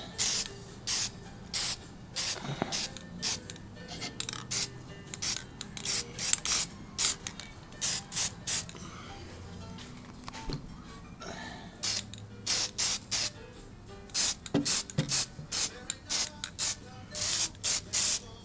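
An end table gets light coats of spray paint, heard as repeated short hissing bursts of the spray can, close up, with brief gaps between passes.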